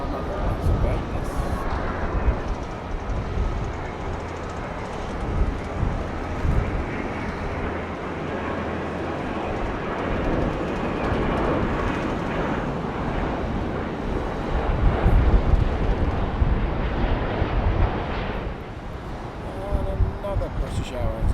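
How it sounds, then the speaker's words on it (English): Virgin Atlantic Boeing 787 airliner at London Heathrow, a broad distant jet roar swelling and fading over wind buffeting the microphone, with a person talking over it. "Virgin Atlantic 787. That is from Las Vegas."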